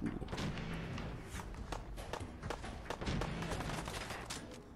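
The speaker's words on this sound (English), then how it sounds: "Sounds like someone's got a rifle and that's scary" Rifle gunfire in a Fallout 4 firefight: a rapid, uneven string of faint cracks and thuds over a steady bed of noise, sounding some distance away.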